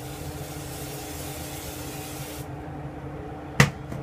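Penetrating oil such as WD-40 or PB B'laster sprayed onto rusty Jeep Wrangler bolts: a steady close hiss for a few seconds that cuts off, followed by a sharp metallic tap.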